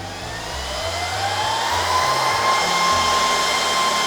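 A Dell PowerEdge R710 server's cooling fans roar loudly at power-on, a steady close whooshing drone with a faint whine that swells slightly and holds, with no talking.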